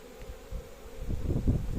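Honeybees bringing in pollen buzz around a hive in a close, continuous drone, joined partway through by soft low thumps and bumps of handling nearby.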